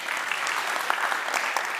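Audience applause for panelists at an industry panel debate, a dense, steady wash of clapping from a large crowd with a few sharper claps standing out, continuing evenly throughout.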